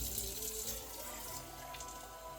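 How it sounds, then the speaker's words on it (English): A can of water pours into a pot of tomato bread soup, making a continuous splashing gush that runs steadily throughout with no talk. "I'm going to add one more can of water"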